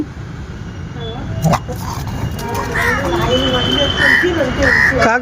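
Crows caw repeatedly in a busy outdoor setting, harsh calls rising over a steady background with a person talking nearby and other sounds mixed in.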